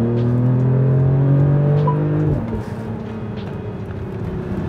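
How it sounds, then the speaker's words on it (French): A Mercedes GLE 53 AMG revs hard from inside the cabin, engine tone climbing steadily before a gear change drops it into a lower, rougher drone as the SUV keeps pulling. "Et là, si on accélère."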